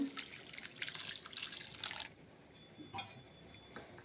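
Water poured into a cooking pot of chopped vegetables for fried rice, a soft splashing pour for about two seconds, then faint drips and light clinks in a quiet kitchen.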